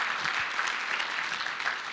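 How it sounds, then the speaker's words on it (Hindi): Loud, dense applause from an audience at a Vestige team anniversary celebration, steady clapping filling the whole moment. "तो जोरदार तालियां आपके लिए होनी चाहिए"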